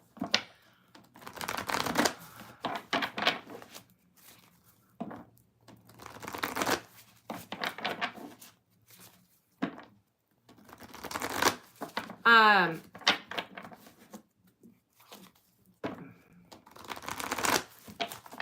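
Playing cards are shuffled in repeated riffling bursts, crisp and close, with quiet pauses in between.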